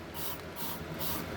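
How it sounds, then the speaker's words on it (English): A spray bottle mists Dendrophylax orchid seedlings in three quick hissing bursts, close and fairly soft. "misting them regularly with the drying in between"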